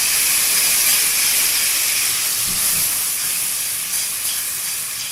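Tomato paste hits hot fried garlic in a pan with a loud, steady sizzling hiss that holds throughout and fades slightly toward the end, no voices.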